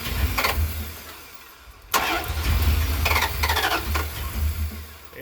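A Dodge truck engine cranking and trying to start, the starter churning in a loud, steady low drone that drops away, then kicks back in with a sharp catch and keeps grinding without firing.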